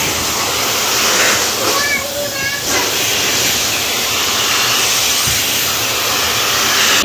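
A wet and dry vacuum cleaner runs loud and steady through the whole stretch as a constant broad roar, cleaning a sofa or carpet, with faint talk beneath it.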